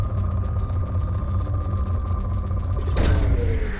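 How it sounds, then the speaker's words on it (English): A probe launches in Mass Effect 2 with a sudden whooshing boom that rises out of a low, steady engine rumble and then fades, heard alone with no voices. "Probe launched."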